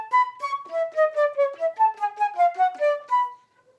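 A flute plays an etude melody in its upper register, a quick run of clear, distinct, close notes in steady rhythm lasting about three seconds, then silence.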